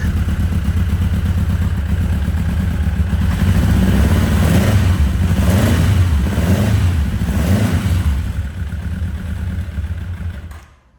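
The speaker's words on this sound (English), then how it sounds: "the bike will start if we put the choke on. And it will run on the choke." A 1983 Honda CB1000C motorcycle engine with dirty carburettors idles on choke, a loud, steady, rough running note that holds close by and then fades away at the end, with no talk.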